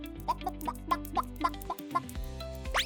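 A short run of rhythmic clucks from a chicken, repeated pulses over a low steady hum, ending in a rising squawk.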